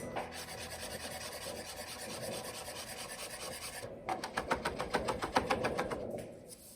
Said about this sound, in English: now fresh lemon zest. We're gonna hold it tight with one hand and zest it.